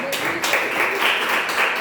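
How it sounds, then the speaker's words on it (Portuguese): A church congregation claps together in a dense, steady patter filling the room, with a voice speaking faintly underneath. "Vamos aplaudir o nosso Deus"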